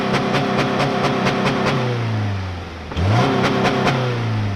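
A 2021 Subaru Crosstrek Sport engine revs outside the car in a series of quick throttle blips, rising and falling twice with a short idle dip between, loud and close with no talk.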